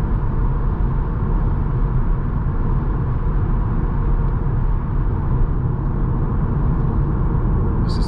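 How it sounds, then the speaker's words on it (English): A 2020 Seat Leon FR cruising at highway speed at night, heard from inside the cabin as a steady low roar of tire and road noise that stays constant, with no talking. "Tire noise."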